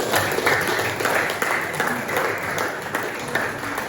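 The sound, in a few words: applause from the class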